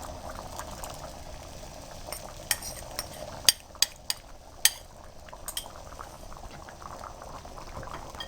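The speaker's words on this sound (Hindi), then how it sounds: "दाल अब उबलने लग पड़ी है" Split chickpea dal boiling in a pot for a Punjabi dal chana, a steady soft bubbling simmer with occasional sharper pops and clinks near the middle, close and fairly quiet with no talk.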